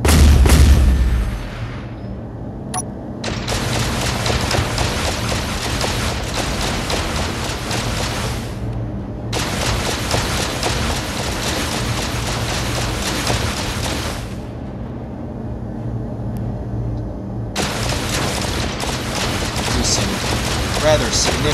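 Ship weapons fire in a Space Engineers frigate battle, heard as sustained dense bursts of gunfire and booming impacts in long stretches, separated by brief lulls, loud and continuous.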